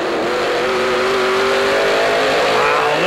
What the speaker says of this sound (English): listen to that NASCAR horsepower down the outside.